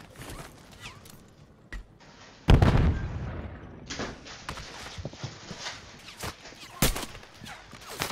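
Sharp gunfire cracks in the Call of Duty video game, a loud shot near the middle and another later, over a constant game background with faint scattered impacts.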